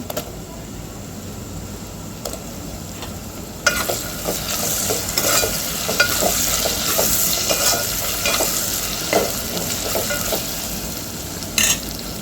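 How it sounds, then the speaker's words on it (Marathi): Tomatoes and ginger-garlic paste sizzle and are stirred in a hot pan for Khandeshi masala dal khichdi. A steady frying hiss runs throughout, with scraping stirs and small clinks that grow busier partway through. "अद्रक लसूणची पेस्ट घालून घ्यायची आहे आणि यालाही परतून घ्यायचं छान आणि इथे टमाटर घालून घ्यायचे आहे"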